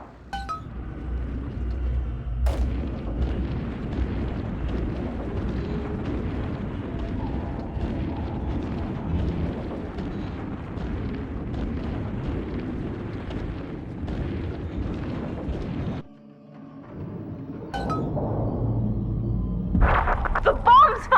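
Bombs exploding in the video game Bioshock 2 as the room floods and falls, a sustained heavy rumbling roar with a sharp crack near the start, a brief drop, then renewed loud rumble and clinking debris.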